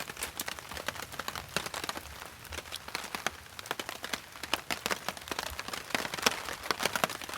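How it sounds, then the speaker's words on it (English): Rain falling on a tarp during a wet afternoon of camping and paddling in Maine, a close, steady patter of drops with sharp, irregular ticks and taps over a soft wash. "It's still raining, but the thunder has stopped."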